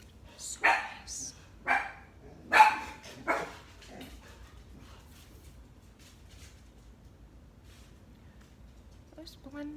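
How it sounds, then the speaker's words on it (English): A pet dog barks at a neighbour who is leaving, with four sharp barks close by in the first few seconds, then quiet room noise and a faint sound near the end. "There goes my dog because my neighbor's leaving."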